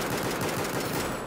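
Rapid automatic gunfire in a video game battle, a dense, loud continuous burst of shots filling the short moment.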